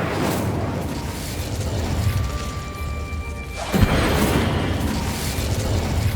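A burst of fire from the Incendio spell in Hogwarts Legacy erupts with a sudden whooshing crash over a steady rumbling game backdrop, followed by sustained crackling noise.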